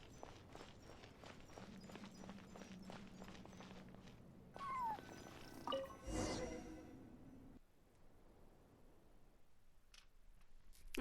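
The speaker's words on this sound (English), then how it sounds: "And so, I followed the cat's cries to find my way out." Faint cat cries in a ruins exploration game, soft meows under clicking footsteps and a low drone, followed by a sharp swell and quieter rustling; no speech.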